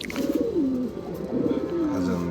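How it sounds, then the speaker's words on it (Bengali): Two low, rolling coos from a pigeon, each a throaty warble sliding downward, close by with faint background hum. "এই যে কবুতরটা দেখেন, অসাধারণ সুন্দর"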